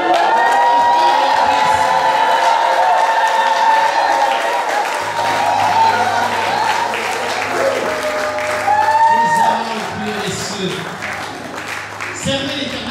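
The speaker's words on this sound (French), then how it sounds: "Alors je vous invite tous, poussez les cris de joie vers l'Éternel." Church congregation shouting for joy, a loud, sustained mix of cheering, whooping and applause from a large crowd with voices calling out over it.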